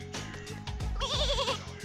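Sheep in The Simpsons Skateboarding video game, herded toward a gate in Springfield Gorge, bleat several times in quick succession, with a wavering, vibrato-like cry near the end, moderately loud and with no talk over them.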